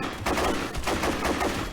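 Bursts of gunfire in a Half-Life 2 roleplay battle: repeated sharp volleys and rapid shots from several weapons, loud and dense, overlapping throughout.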